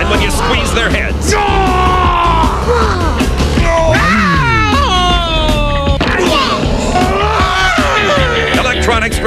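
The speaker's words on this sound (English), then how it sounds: "Electronic stretch screamers scream when you stretch them" Electronic stretch screamer toys let out loud, wavering synthetic screams and yells when stretched or squeezed, layered over music in a dense, continuous commercial soundtrack.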